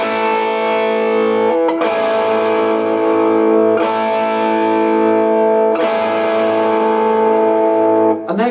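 Distorted electric guitar strums strung-out chords, with four long sustained strums each ringing for about two seconds. The sound is thick, loud and close, with a short pick noise at the end.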